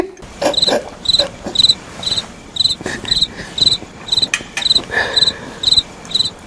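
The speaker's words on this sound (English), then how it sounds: "Please add crickets in the background" Crickets chirp in a steady, evenly spaced rhythm of bright, pulsing trills, clear and fairly close, repeating about twice a second as an awkward-silence sound effect.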